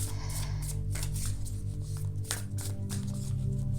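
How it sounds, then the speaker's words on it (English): Soft, rapid riffling and flapping of tarot cards being shuffled, in repeated bursts over a low steady hum. "Let's shuffle again"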